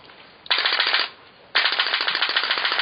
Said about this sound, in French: Donc vous allez entendre comme un bruit de machine à coudre, et il faut lever le pistolet chaque fois qu'on le déplace